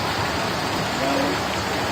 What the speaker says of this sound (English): This rain is a result of some sprinklers strategically placed in high points.